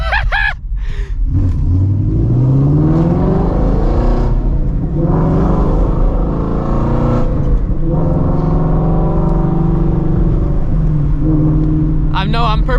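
A Ford Shelby GT350 on drag radials launches hard in first gear, its engine rising in pitch through loud sustained acceleration before the revs drop and climb again. Voices talk over the engine.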